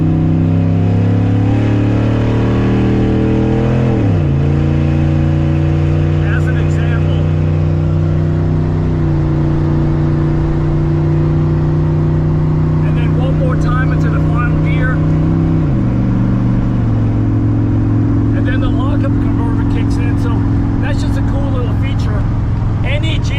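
A stock car's engine at a car show, revved up and held at steady high RPM, then stepping down and back up in distinct shifts of pitch, loud and close, with someone talking over it.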